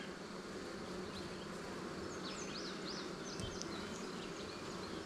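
A honeybee swarm in May hums in a steady, low buzz that holds throughout, quiet overall, with faint bird chirps flickering above it.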